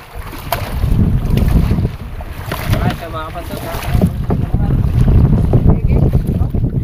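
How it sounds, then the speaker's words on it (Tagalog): A small wooden outrigger boat (bangka) moves across open water while wind buffets the microphone in heavy gusts over the hum and splash of the ride, and people talk on board. "nakasakay na rin ako ng bangka ulit"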